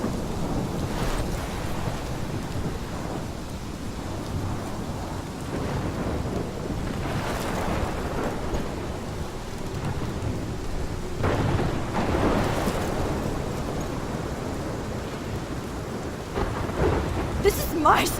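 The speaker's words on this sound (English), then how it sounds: "This is my storm." A thunderstorm from the Life is Strange video game delivers steady heavy rain with rumbling thunder rolling through at intervals, a dense continuous wash with no voices.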